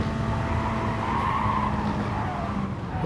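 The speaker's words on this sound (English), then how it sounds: "Put the brakes hard here" Race car in Gran Turismo Sport braking hard into a corner, tires skidding and squealing over a steady engine roar, loud and continuous throughout with no talk.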